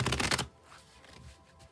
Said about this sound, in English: I'll shuffle till it feels ready, and then we'll cut and deal right off the top.